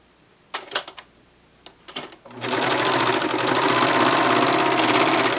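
Sewing machine stitching fabric across the top of a blouse piece: a few short clicks and handling noises, then the motor starts and runs in a steady, loud whir with rapid needle rhythm for several seconds.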